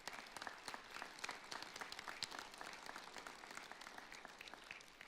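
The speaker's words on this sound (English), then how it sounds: "I think my staff deserves a big round of applause" An audience applauds staff members at the 2018 Panhandle Sports Hall of Fame ceremony, a steady faint wash of many hands clapping, with sharp individual claps standing out throughout.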